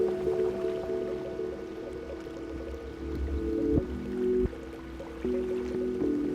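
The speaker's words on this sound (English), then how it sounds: "The sound of water hitting the rocks echoes like the restless heartbeat of the wild land." River water tumbling over rocks in a wild, remote valley, a steady close rush and splash with a low roar underneath, continuous throughout with brief surges.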